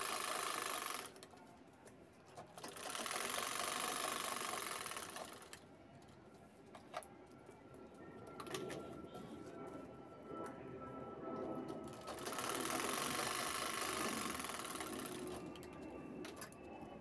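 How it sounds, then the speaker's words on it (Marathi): A sewing machine stitches a pocket onto a simple cloth bag, running in two long, fast, whirring bursts close by with a quieter stretch of handling sounds between them. "इथे पॉकेट उलटून शिलाई घेते वरती."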